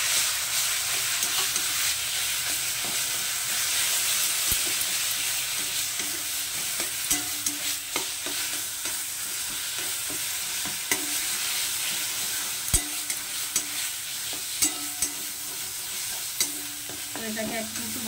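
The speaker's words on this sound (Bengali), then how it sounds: "এটাকে একটু ভালো করে ভাজা করে নেব" Boiled taro leaves fry and get stirred in hot mustard oil for a taro-leaf sour dish. A steady close sizzle runs throughout, broken by scattered spatula scrapes and taps.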